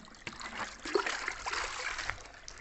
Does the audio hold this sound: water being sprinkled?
yes